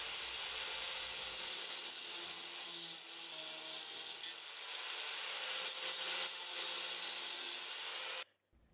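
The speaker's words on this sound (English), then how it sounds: "I'm going to cut off the excess of that chain now" Excess chain on hanging garage shelves is cut with a saw, a loud continuous abrasive grinding that runs for several seconds with slight dips and then stops abruptly.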